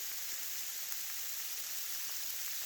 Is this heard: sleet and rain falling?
yes